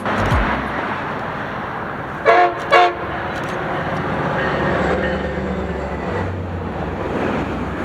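A northbound FrontRunner commuter train led by Loco 5 rumbles past steadily, with two short, loud horn blasts near the middle over the continuous rolling noise of the cars.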